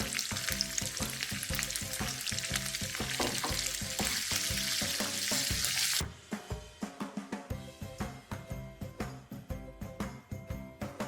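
Ginger garlic paste with curry leaves sizzling hard in a pan for a Kerala chicken pickle, a loud continuous frying hiss that suddenly drops, followed by rhythmic scraping and stirring clinks as the paste is moved around.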